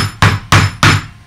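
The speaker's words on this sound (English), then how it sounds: "literally hammer the wood into shape" Three loud, sharp hammer knocks strike wooden canvas stretcher bars at an even pace, each blow close and ringing briefly before fading.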